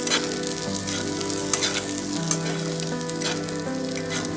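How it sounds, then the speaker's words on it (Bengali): Sliced onions and green chili frying in oil in a pan for pasta, a close, steady crackling sizzle with occasional stirring scrapes, no talk. "পেঁয়াজটা যতক্ষণ না ব্রাউন কালার চলে আসে ততক্ষণ ভেজে নিতে হবে বন্ধুরা"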